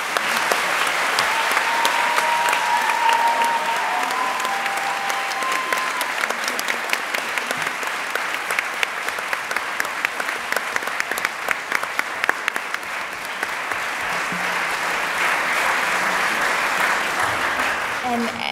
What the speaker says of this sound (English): I'd like a round of applause for her